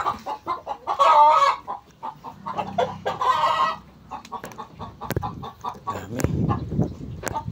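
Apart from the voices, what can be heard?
hens clucking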